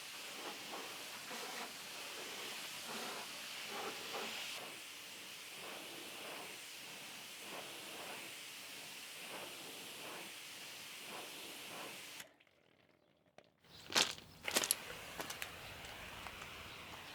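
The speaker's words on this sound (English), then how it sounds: "I did also think that it would benefit from a quick undercarriage clean using this pressure washer attachment" A pressure washer attachment blasts loose mud from the undercarriage of a dirty Volkswagen Golf, a steady loud hissing spray with rhythmic surges for about twelve seconds. It then cuts out, and a few sharp knocks and clatters follow.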